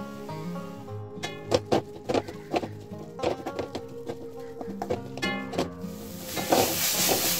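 Tandalichi bhaji, an amaranth-leaf vegetable dish, cooks uncovered in a pan over a low flame, giving a soft, steady sizzle broken by clattering bursts of stirring, close and fairly quiet, with no talking.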